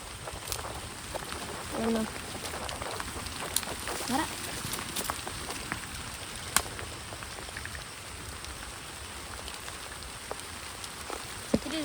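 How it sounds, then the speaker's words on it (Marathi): Steady rain patters on the ground outdoors during the first monsoon shower, a dense continuous hiss with scattered sharper drops, while a voice speaks briefly in the background. "पाऊस पडायचा चालू झालाय"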